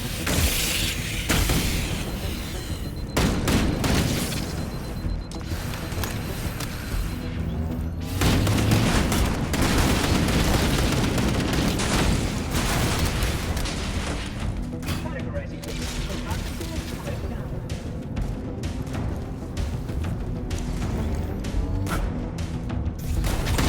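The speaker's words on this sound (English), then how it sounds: "Expose cores and destroy them with a grenade or rocket." Booming grenade and rocket explosions destroy cores in the Halo video game, heavy blasts and crashing debris recurring amid steady combat noise, with someone speaking over much of it.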